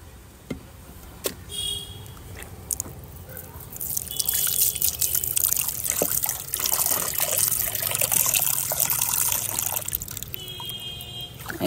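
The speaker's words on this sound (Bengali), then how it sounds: "এবার জল ফেলবো কিন্তু" Water poured out and splashing down in a home kitchen while cleaning up, starting with a few drips before a steady trickling, splashing flow runs for several seconds close by.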